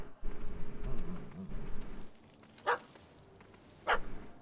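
Two short, sharp dog barks in Witcher 3: Hearts of Stone, spaced about a second apart after a stretch of low background rumble, fairly close and clear.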